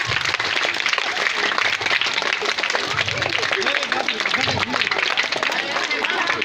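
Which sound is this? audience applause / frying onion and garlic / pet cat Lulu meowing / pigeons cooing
audience applause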